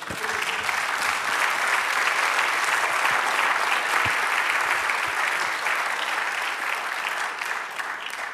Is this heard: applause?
yes